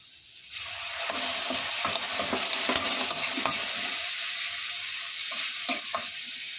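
Vegetables stir-fried in a pan with soy sauce and chilli sauce sizzle loudly and steadily, with scraping stirs and clinks of the spatula against the metal scattered throughout, and no voices.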